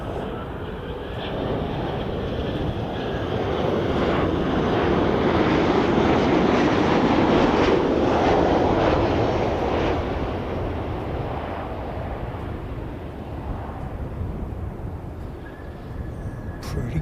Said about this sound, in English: Qantas 191 coming in from Sydney.